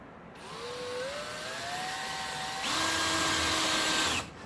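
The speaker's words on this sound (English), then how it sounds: "drill a hole in this" Electric drill boring a hole for a switch on a DIY LED truck bed light job, its motor whining and climbing in pitch, then bearing down louder before stopping abruptly.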